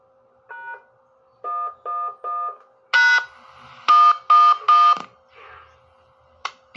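A run of DTMF keypad tones sends remote commands to a talking repeater through a Zello interface: short evenly spaced beeps in groups, then a louder burst of tone pairs and a final brief blip, with no talking.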